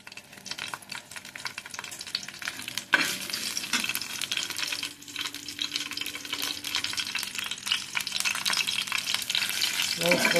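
Fish frying in a little oil in a pan for a Mangalore-style egg curry, with a steady close sizzle and crackle and a brief stirring clatter near the start, with no talk.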